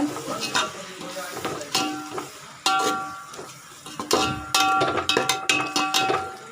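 A spoon stirs yogurt, a handful of coriander and mint into baby jackfruit biryani in a cooking pot, with repeated close scraping strokes, wet squelching and sharp metallic clinks against the pot, no talking.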